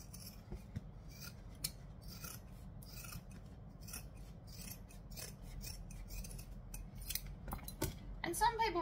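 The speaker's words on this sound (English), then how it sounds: "I am just going to get normal scissors and cut it down" Quiet, close snipping and rasping of ordinary scissors cutting through thick vinyl, repeated irregular cuts with a faint voice underneath.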